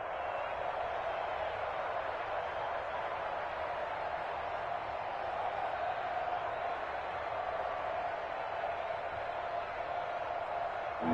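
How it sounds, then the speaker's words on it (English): Steady crowd roar fills a football stadium during an NFL game between the Redskins and Cardinals, a broad continuous wash of voices at even loudness with no distinct cheers standing out. "The crowd getting into it as we come up on a big 3rd down"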